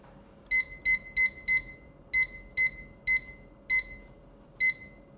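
A kitchen timer alarm sounds beside a gas stove while kimchi stew cooks, giving nine sharp, bright electronic beeps in uneven pairs and singles over a low steady hum, with no talking.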